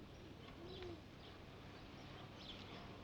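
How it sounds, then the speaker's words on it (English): Pigeons coo softly in the background of a quiet outdoor setting in Geneva, a single low murmuring call against steady ambient noise. "Birds."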